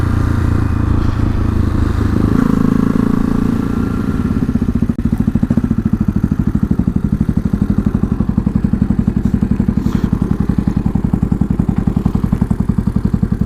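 A small, lovely motorcycle that had been sitting unused in a shed idles steadily on its own, a close, even engine putter with a rhythmic tick that tightens slightly midway through.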